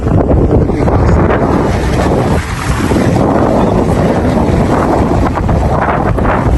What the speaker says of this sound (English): if it were not so stormy, not so windy